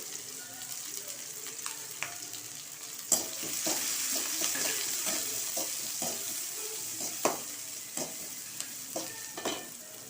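Shallots, garlic and green chillies sauté in hot oil for a goat blood fry, a gentle sizzle rising after a clack, with a spatula scraping and tapping the pan in irregular strokes close by.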